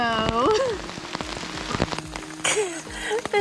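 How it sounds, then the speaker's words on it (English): Pouring rain patters on the Endless Wall hiking trail in New River Gorge, a dense spray of drops landing close by. Some brief higher whistling tones rise over the rain now and then. "We love hiking in the pouring rain."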